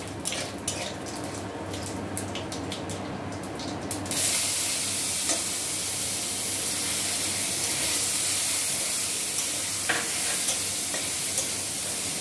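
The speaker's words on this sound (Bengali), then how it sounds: "এই যে ছোট ছোট করে কেটে রাখা রসুন আর আদাগুলো দিয়ে দেবে তেলে।" Chopped garlic and ginger hit hot oil, and a loud, steady sizzle bursts up, continuing evenly with light stirring clinks while preparing achari bhindi.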